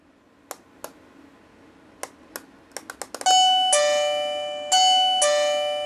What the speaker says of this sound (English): It's kind of weird because I just pressed it once and it didn't work. You do it twice, it does it.